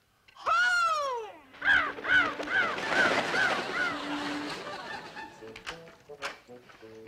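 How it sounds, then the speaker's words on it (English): Several crows caw in a quick run of harsh calls as a flock flies off, loud and close, with a voice speaking over the birds and faint honking calls mixed in near the end. "Go on, crows. Fly slow now, but go home."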